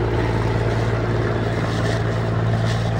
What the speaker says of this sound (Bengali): দেখেন বিশাল একটি মালবাহী কার্গো জাহাজ যাইতেছে।